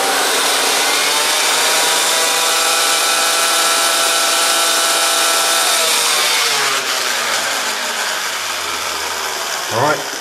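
Kirby vacuum cleaner running with its bag attached, a loud steady motor whine held for several seconds, then the pitch sweeps down as it slows near the end, close by with no speech.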